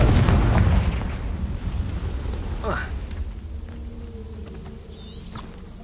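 The Confringo fire spell in Hogwarts Legacy bursts loudly at the start, a booming blast that rumbles and fades over several seconds amid game effects.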